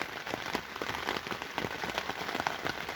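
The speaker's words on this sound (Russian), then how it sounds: "лежим, дождь тарабанит." Rain drums on a tent during an overnight camp in September, a dense patter of close, crisp droplet hits spread evenly across a few seconds with no voices.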